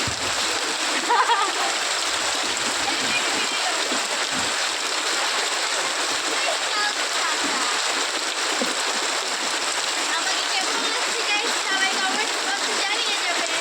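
Rain pours steadily, a dense continuous hiss and splatter that stays even throughout, with faint voices underneath.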